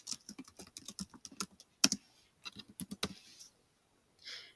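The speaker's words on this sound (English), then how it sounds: "then we type out the month, and then space, and then the year" A date is typed into a Word document on a computer keyboard: quick bursts of crisp, close key taps with one heavier spacebar-like thump, then a pause and a brief soft rustle.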